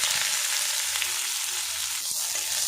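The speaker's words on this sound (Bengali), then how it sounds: "পেঁয়াজটা লাল লাল করে ভাজা ভাজা করে নেব" Chopped onion sizzles and fries steadily in hot oil with whole garam masala and cumin seeds, a continuous close hiss with faint stirring and no talk.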